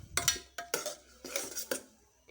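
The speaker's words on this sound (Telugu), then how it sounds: "మసాలాను కూడా వేసి బాగా కలిపి కాసేపు వేయించుకోవాలి." Ground masala stirred into a pan while frying, several metallic scrapes and clanks of a spoon against the pan in quick bursts, close and moderately quiet, no voices.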